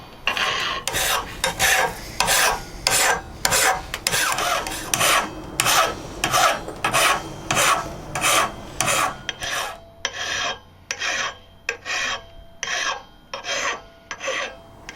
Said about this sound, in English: I'm going to take my mill file here, and I'm going to start on this side and just start putting the bevel into this blade